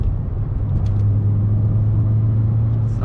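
A Peugeot 106 engine drones steadily from inside the car on small winding roads, a constant low hum that climbs slightly in pitch as revs build.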